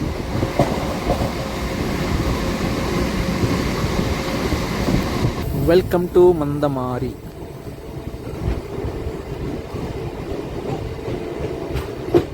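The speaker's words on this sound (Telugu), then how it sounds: "ఇప్పటి వరకు చాలా మెమూ ట్రైన్ జర్నీ చేసాం, కానీ ఫస్ట్ టైం ఒక long distance MEMU train journey అయితే చేస్తున్నాను అనమాట" A Singareni MEMU passenger train on a long-distance run, passing Mandamarri station without stopping, with a steady loud rumble of wheels and carriages throughout and someone talking over it; the roar eases and grows quieter after the midpoint.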